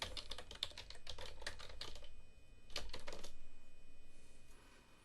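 Keys clack on a computer keyboard in quick bursts, with a short pause before another fast run of keystrokes, close and fairly quiet with no speech.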